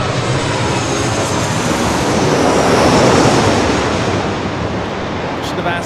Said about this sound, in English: This is Southwest Airlines 1593 coming in from Dallas Love Field on a 737-800